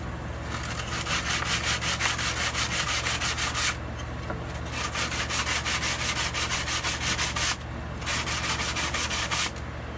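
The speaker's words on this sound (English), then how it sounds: "Next step, take some sandpaper," A wooden stand for a Native American flute is sanded by hand with sandpaper, giving steady, close scratchy rubbing in three long bursts with brief pauses between them.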